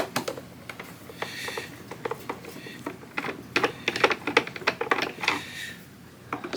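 Screws being removed from a Barbie Dream Boat toy, with close, irregular small clicks and ticking scrapes in uneven bursts, like a screwdriver working on plastic, fairly faint with soft room noise.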